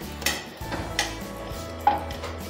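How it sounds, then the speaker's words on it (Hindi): Sweet corn being scooped out of a frying pan into a dish, with a few sharp metal clinks of a spoon against the pan over a low background hum. "कॉर्न को फ्राई पैन से बाहर निकाल लेंगे"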